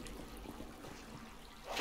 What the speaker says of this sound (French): Il y a cette petite rivière qui coule là tranquillement.